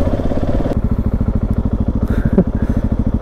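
A GasGas SM700 motorcycle fitted with a LeoVince slip-on exhaust rides past close by, its loud single-cylinder engine thumping at a rapid, even pulse with a brief throttle blip midway.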